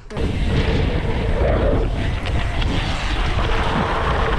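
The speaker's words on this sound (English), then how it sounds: "it's way too windy" Strong gusting wind roaring against the microphone during a mountain bike ride, a dense continuous low rumble without letup, no speech.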